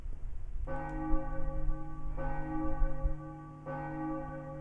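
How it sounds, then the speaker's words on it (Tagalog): A video game church bell tolls three times at even intervals, each ringing stroke decaying slowly over a low background rumble. "Narinig niyo yun? Yung may kampana, no?"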